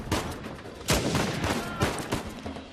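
Sniper rifle shots in Uncharted 4, several loud sharp cracks with booming tails spaced irregularly across a few seconds, close and prominent with no talking.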